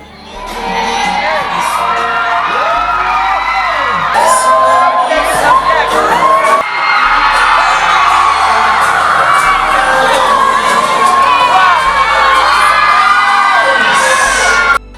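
A large crowd at a university cultural week ladies' night fashion show cheers, whoops and shouts without pause over loud thumping music, dense and close throughout.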